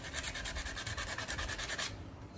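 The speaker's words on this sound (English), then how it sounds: "So I'm just using 60 grit sandpaper to take the rust spots" Sandpaper of 60 grit is rubbed in quick, even back-and-forth strokes over rust spots on a bike frame, a close, dry scratching rhythm that stops near the end.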